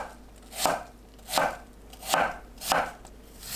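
A knife cuts Korean yam (ma) into 0.5 cm julienne strips, making four evenly spaced, crisp chops on a cutting board against a quiet background.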